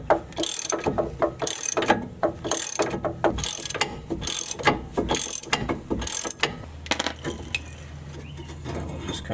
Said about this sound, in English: It has 2 18mm bolts on the back side that you're going to have to loosen up and remove.